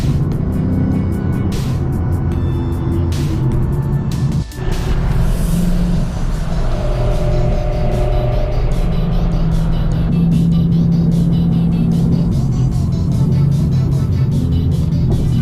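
Car cruising on a freeway, heard from inside: steady loud road and engine rumble with tire roar, a brief thump near the middle and a smoother, lower drone later on.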